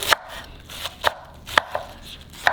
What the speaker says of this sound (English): make sure you thinly slice them